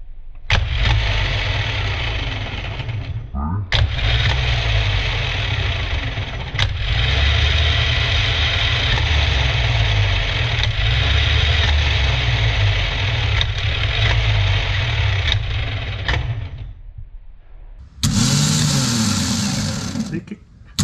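A reconditioned car starter motor spins up on 12-volt bench power in two long, steady whirring runs, loud and close, followed by a sharper, brighter burst near the end.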